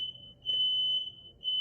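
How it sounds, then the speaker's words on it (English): Indoor fire alarm sounding: a steady, piercing high-pitched electronic tone that dips briefly twice and then continues, loud and close, with no one talking over it. "That was my fire alarm."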